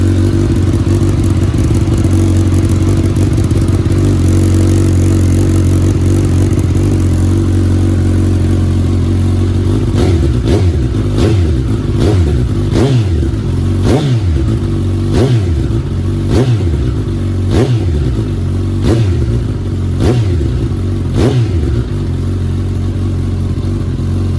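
2019 Suzuki Katana 1000 with a new muffler and its baffle fitted, idling with a steady rumble before a run of sharp throttle blips, about a dozen rhythmic revs rising and falling, loud and close.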